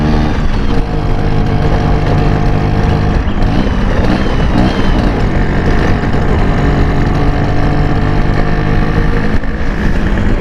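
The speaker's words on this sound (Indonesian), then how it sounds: "Ini motor saya kayaknya dingin jadi berobat." A cold Vespa scooter engine on a mountain road in southern Cianjur runs loud and close, idling with an uneven sputtering throb and steady harmonic hum that carries on without a break.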